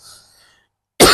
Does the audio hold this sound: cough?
yes